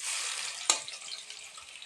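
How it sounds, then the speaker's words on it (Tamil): Onions fry in sesame oil in a pan, a steady close hiss of sizzling with one brief clatter partway through. "வெங்காயம் நல்லா ஃப்ரை ஆகிடுச்சிங்க."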